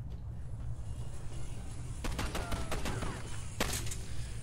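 Gunfire in the video game Condemned 2: Bloodshot, a few sharp shots in quick bursts around the middle and again near the end, standing out over a steady low game rumble.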